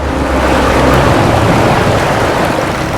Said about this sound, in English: I want you to check out the speed of my boat right here